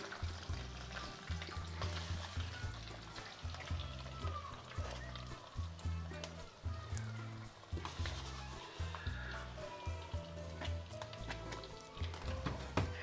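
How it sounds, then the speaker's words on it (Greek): Finely chopped onion and garlic sautéing in a pot, a steady close sizzle with repeated stirring scrapes and light taps throughout, no voice heard. "θα το σοτάρουμε, και όσο θα σοτάρουμε το κρεμμύδι με σκόρδο"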